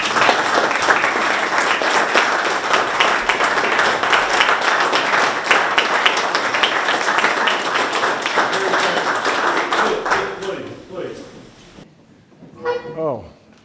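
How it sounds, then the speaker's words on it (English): A large crowd gives sustained, lively applause for West Virginia's Governor Jim Justice at a Mercer County grant event. The clapping is loud for about ten seconds, then thins and tapers off as voices come through. "if you could all give one more round of applause to our 36th Governor Jim Justice"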